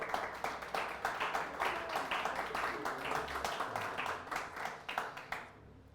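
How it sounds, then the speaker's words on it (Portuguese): A church congregation claps together in a steady, rhythmic burst of applause, moderately distant and fairly faint, lasting several seconds before fading out. "Palmas para o Senhor Jesus."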